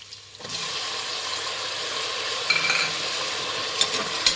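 Tomatoes frying in a pan for rice bath, giving a steady, close sizzle with scraping and stirring clicks throughout and no talking.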